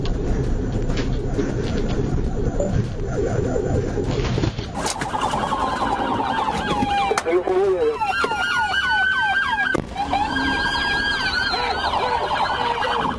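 Police sirens wail and yelp in shifting patterns over highway road noise during a car chase, switching abruptly between tones, fairly close and loud throughout.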